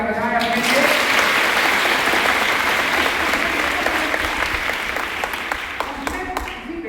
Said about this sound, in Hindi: एक बार जोरदार तालियां बजाएं अपने लिए।